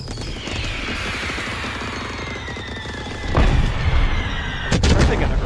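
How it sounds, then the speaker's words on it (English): Firework explosions in the game Fireworks Mania: a sustained crackling, hissing rumble of launched fireworks, then two loud deep booms that burst in close succession near the end. "let's see if we're finally going to get the explosion we're trying to get here."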